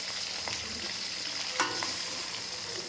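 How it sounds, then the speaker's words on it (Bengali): Pepper and salt coated chicken sizzles steadily in a wok over medium heat, a soft continuous frying hiss with one brief clatter of stirring, no talk. "এই গোলমরিচ আর নুন মাখানো চিকেনগুলোকে ভেজে নেব"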